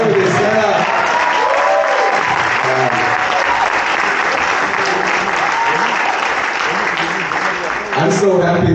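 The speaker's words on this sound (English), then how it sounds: "how about a big round of applause for the team?" Loud, sustained applause from a crowd cheering a team at a school event, dense clapping throughout with voices shouting over it.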